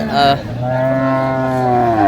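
Improved-breed dairy cows at a traditional cattle market in Dinajpur give a loud, close, drawn-out moo lasting about two seconds, with no talk over it.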